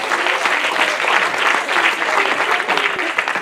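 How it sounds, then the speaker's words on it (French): A festival audience applauds the event's partners with steady, dense clapping that holds evenly throughout, filling the space at close range. "on peut applaudir les partenaires"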